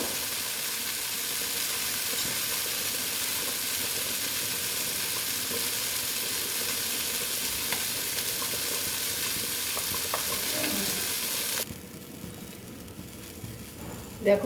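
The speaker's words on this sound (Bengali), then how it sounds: "এইভাবে কষিয়ে দেব দেখো" Mourola fish curry sizzles and is stirred in a pan, a continuous close frying hiss that cuts off sharply near the end.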